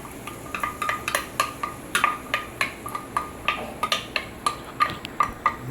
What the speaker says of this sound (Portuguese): Começar a cebola a dourar levemente, bem devagarinho. Essa cebola roxa.